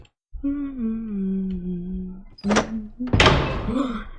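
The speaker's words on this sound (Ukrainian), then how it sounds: "залишилося дочекатися звуку дверей, і ми зможемо виходити" Minecraft door sound effects: clear wooden thunks and a louder door bang, following a stretch of steady game tone, with no speech.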